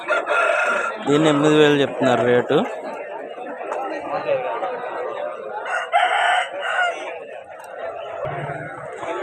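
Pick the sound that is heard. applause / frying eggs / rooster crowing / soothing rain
rooster crowing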